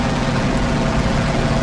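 F4U Corsair's 2,000 horsepower piston engine at takeoff power in the DCS flight simulator, a loud continuous droning roar from the cockpit with no pause.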